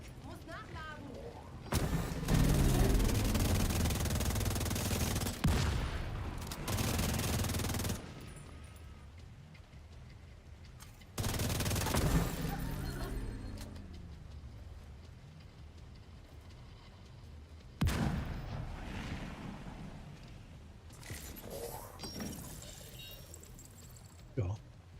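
Gunfire and a grenade explosion in The Division 2, with loud rattling bursts and heavy booms separated by quieter stretches and occasional talk.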